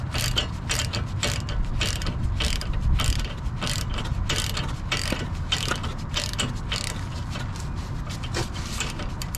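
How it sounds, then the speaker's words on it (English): A ball joint separator tool is ratcheted tight on the front suspension of an 8th-generation Honda Civic, giving steady, evenly spaced clicking strokes of a ratchet, close and moderately loud throughout. "just tighten the ball joint separator tool."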